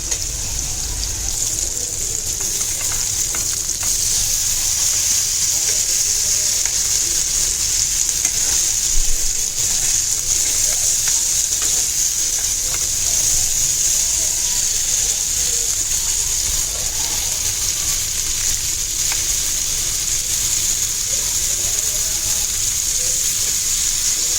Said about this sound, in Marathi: आता आपण मस्त दोन्ही बाजूने फ्राय करून घेऊया